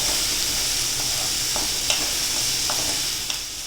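Onions fry in a pan with a steady, loud sizzle while a spoon scrapes and stirs them in occasional soft strokes, close up and with no voices.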